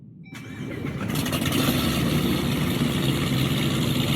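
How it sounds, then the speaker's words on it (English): A Hennessy-tuned car, said to sound much like a 2023 Challenger, cranks briefly and catches, then its engine swells into a loud, steady idle close by with no talking. "this car, we're going to start up here real quick."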